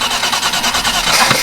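A Holden Commodore VT SS with a 304 V8, left sitting for eight years, cranks over in a steady, loud churning rhythm with no clear catch, heard close up and with no talking.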